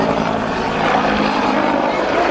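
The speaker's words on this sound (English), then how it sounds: "The Bell AH-1 Cobra, they refer to it as America's legendary combat helicopter." A Bell AH-1 Cobra two-bladed, single-engine attack helicopter at the Sanicole airshow gives a loud, steady rotor and engine roar that fills the whole stretch without letup.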